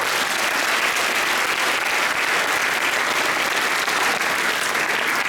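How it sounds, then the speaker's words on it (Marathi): Loud, dense applause from a large group of students at a college event, steady and unbroken throughout without talk. "एका जोरदार टाळ्या वाजवा स्वतःचा"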